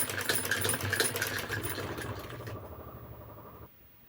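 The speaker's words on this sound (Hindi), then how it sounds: "तो इस तरह से हमें पूरी पट्टी पे सिलाई कर देना है।" A sewing machine stitches along a blouse button strip in a steady, close mechanical whir that runs for several seconds, then stops abruptly, leaving quiet room tone.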